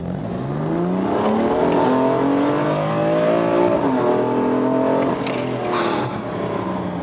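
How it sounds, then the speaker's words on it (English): A BMW M4 accelerates hard on the road, its engine climbing through the revs, dipping briefly at a gear change, then rising again, loud and close throughout with no talking. "I might as well give you a quick pull of the car."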